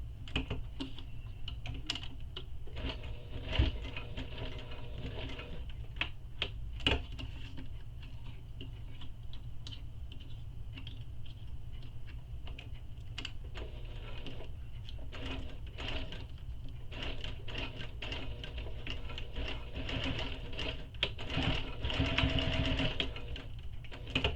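A sewing machine back-stitches a waist pack in a quiet room, giving a steady fast ticking patter of needle strokes that runs for the whole stretch with little change in level.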